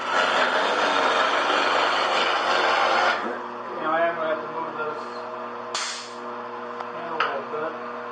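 A woodturning gouge cuts into spinning wood on a lathe, a steady rasping scrape that fades after a few seconds into a quieter hum with light taps.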